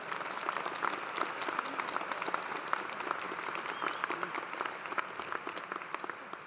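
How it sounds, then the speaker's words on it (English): Steady applause from a large audience at a university graduation ceremony on the main stage, many hands clapping in a continuous, fairly distant wash with no voices over it. "Let's give him another big round of applause"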